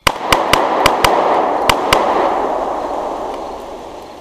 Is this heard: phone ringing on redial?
no